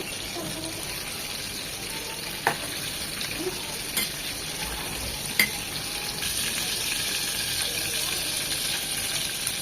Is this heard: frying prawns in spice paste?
yes